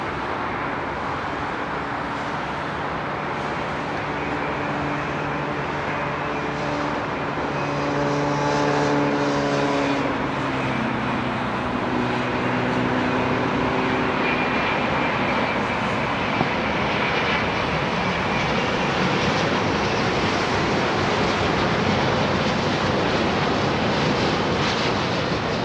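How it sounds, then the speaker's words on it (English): A Virgin Airbus A330-900 jet roars steadily at Heathrow Airport, its engine noise loud and sustained, with whining tones rising and shifting partway through as the aircraft passes. "Virgin's latest new aircraft on the fleet, the A339"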